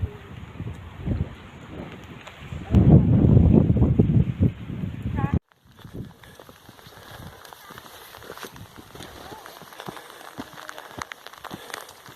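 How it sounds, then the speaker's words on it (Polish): Steady rain patters and hisses on water in Scotland, growing louder midway, then continuing as a softer, wind-buffeted wash with scattered drops; a voice speaks under it early on. "Już nawet słychać, jak deszcz o wodę się obija."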